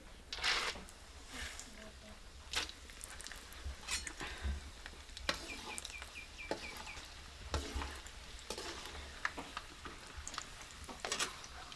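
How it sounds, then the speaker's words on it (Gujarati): Peanuts fry in oil in a brass pan for garlic chevdo, with a soft crackling sizzle under repeated scraping and stirring strokes, and a voice at times in the background. "તો પહેલાં દાણા તળ નાખીએ આપણે"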